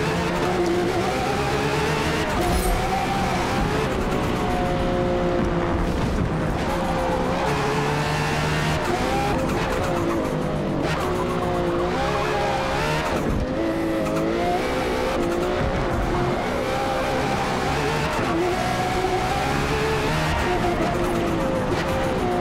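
A Lotus race car screams around the Le Mans circuit in Forza Motorsport, its engine note rising and falling through gear changes with occasional tire squeal, loud and continuous for the whole stretch.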